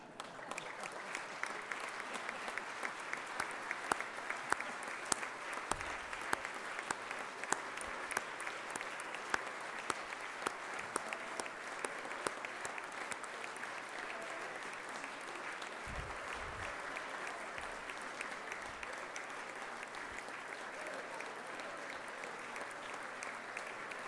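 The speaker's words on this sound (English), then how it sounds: "raucous applause" Long, steady applause from a large crowd in the Indiana state legislative chamber as justices and judges enter, a dense continuous patter of many hands at moderate distance, with faint murmuring and occasional low thumps.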